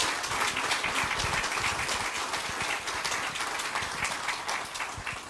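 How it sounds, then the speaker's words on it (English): Audience applause for Veterans Affairs Canada staff at an office announcement in Sydney, Nova Scotia: dense, steady clapping from a crowd, fairly loud and continuous throughout with no talk over it. "I think we need a round of applause for all people who work in Veterans Affairs Canada"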